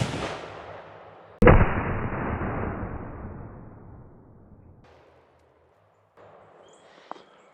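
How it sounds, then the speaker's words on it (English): A lever-action elephant rifle fires a 600-grain Woodleigh bullet outdoors: one sharp, very loud blast with a long rolling echo that fades over several seconds, then near quiet with faint small noises. "All right, 600 grain bullet across the chronograph."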